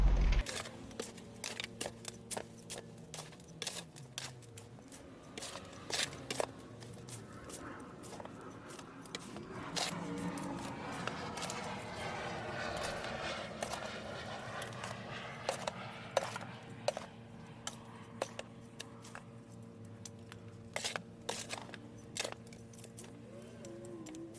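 Homemade potting soil is mixed by hand, with faint crumbly rustles and soft scraping over a low steady hum, broken by frequent small clicks and knocks.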